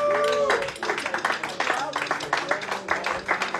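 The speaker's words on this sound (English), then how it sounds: "applause on that one" Audience clapping after a live performance of a song at Sugar Hollow, a steady patter of hands that runs for a few seconds, with a voice briefly heard at the start.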